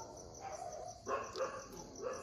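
A litter of very small, abandoned puppies gives a few faint, brief yips and whimpers against a quiet background, with no one speaking.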